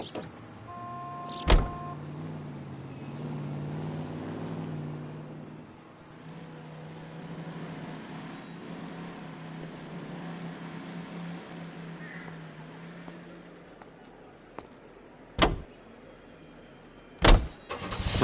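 Steady car engine drone while driving in L.A. Noire, a low continuous hum that rises and fades, broken by a few sharp loud knocks and clunks near the end.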